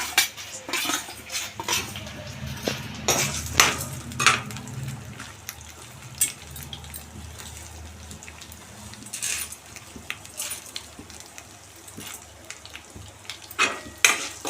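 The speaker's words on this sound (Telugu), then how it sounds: "పోపులన్నీ వేసేస్తున్నాం" Tempering spices such as coriander seeds fry in a little oil in a pan for ginger chutney, a soft crackle under frequent metal utensil clinks and scrapes against the pan.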